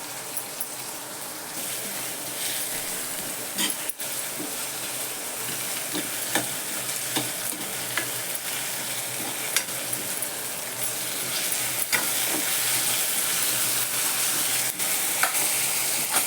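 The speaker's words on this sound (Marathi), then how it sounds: "कांदा आणि बटाटा एकत्रच टाकते म्हणजे ते दोन छान परततं" Chopped onion and potato fry together in a home-kitchen pan, sizzling steadily with occasional scrapes and stirs of a spoon. The sound is continuous and close, grows slightly louder toward the end, and no one speaks.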